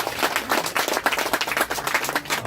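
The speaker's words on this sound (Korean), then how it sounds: "다시 한번 박수 부탁드립니다" At a memorial ceremony for independence activist Lyuh Woon-hyung, the audience gives a brisk round of applause with individual claps clearly audible.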